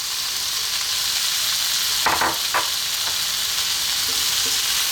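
Cold cooked basmati rice being stirred into kedgeree with smoked fish in a hot pan, a steady loud sizzle with a few spoon scrapes midway and no talking.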